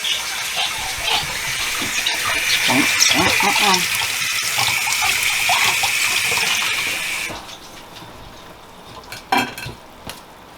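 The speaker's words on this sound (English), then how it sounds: "Rinse them off. Cold water." Cold tap water runs steadily as chives are rinsed in a kitchen, a broad hiss with dish and utensil clinks mixed in. It cuts off after about seven seconds, leaving a few faint clatters.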